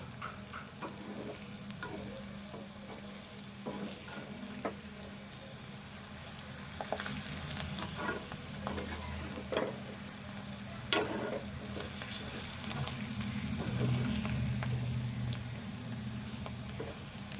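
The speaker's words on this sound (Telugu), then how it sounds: "కొద్దిసేపు ఇంకా మంచిగా ఫ్రై కావాలి" Potato fry sizzling steadily in a pan, a continuous crackle of frying with occasional stirring clicks and scrapes, fairly close and moderately loud, no talking.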